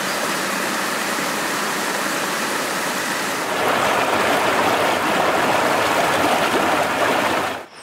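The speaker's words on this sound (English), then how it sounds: "Well, Rue, I didn't plan on going into the water" Stream water rushing steadily outdoors on a walk, a continuous broadband wash that grows a little fuller partway through before cutting off at the end, with no talk.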